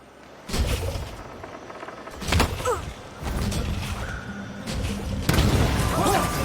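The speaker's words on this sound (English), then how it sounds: "What was that explosion?" Explosions in the stealth video game Dishonored 2 come as several heavy booming bursts with rumbling low end, separated by short lulls, over a continuous backdrop of game ambience.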